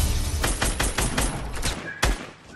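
A quad launcher weapon fires in a video game, producing a rapid volley of loud, punchy blasts in close succession and then one heavy final boom, with no voices over it.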